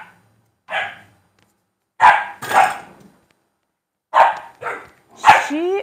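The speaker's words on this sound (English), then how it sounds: "She is barking with her mouth full at Bowie" A dog gives six muffled, throaty barks in irregular pairs, close by, separated by short silences.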